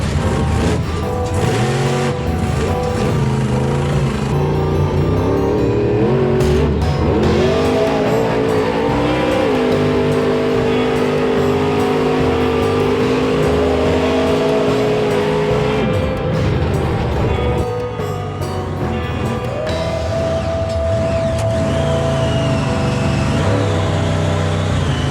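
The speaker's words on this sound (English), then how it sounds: "Because of my big tires, four-wheel drive, and huge engine, I can go anywhere," A monster truck with big tires, four-wheel drive and a huge engine revs and drives, a continuous loud engine roar with rising and falling pitch, no speech.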